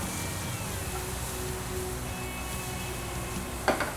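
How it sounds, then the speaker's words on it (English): Garlic and ginger hitting a hot pan with onion while cooking okra bhaji, giving a steady close sizzle throughout, with a couple of sharp clinks or stirring knocks near the end. "I think the garlic and ginger we're going to throw in now."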